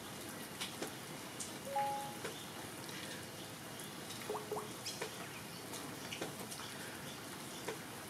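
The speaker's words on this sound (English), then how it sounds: "It's still raining." Rain falls outside as a soft, steady patter with scattered faint drips, quiet and continuous throughout, with no voices.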